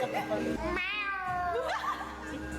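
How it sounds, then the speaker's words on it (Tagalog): A cat gives one drawn-out meow close by, while people talk around it. "What cat is that?"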